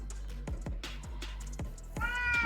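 A cat lets out a short meow near the end, close by, following a run of soft clicking and tapping noises.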